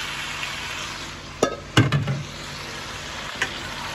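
Marinated chicken fries with crispy browned onions in a pan, giving a steady, close sizzle. A few sharp clinks and scrapes of a spoon stirring against the pan break through it.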